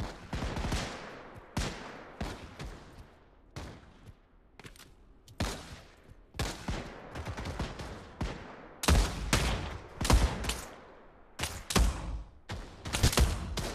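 Sharp Webley revolver shots crack out one at a time at irregular intervals in the Pavlov VR video game, with a denser flurry of loud reports in the last few seconds.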